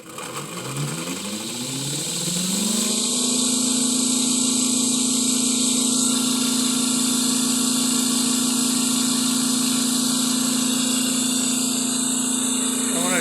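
A DRMG generator runs up to speed in AC mode at 1800 rpm, its hum rising in pitch over the first few seconds, then holding a loud, steady whine and drone with no talking.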